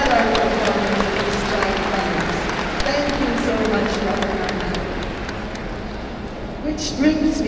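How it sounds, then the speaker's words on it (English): A crowd applauds steadily, a dense patter of clapping with voices mixed in underneath. "I believe he deserves a resounding round of applause"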